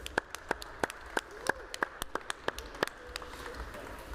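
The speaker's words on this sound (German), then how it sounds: "Applaus für unsere Judges in allen Kategorien." Applause for the judges at a German barista, latte art and coffee championship, heard as sparse, sharp individual claps from a modest crowd, spaced irregularly and fairly close, thinning out toward the end.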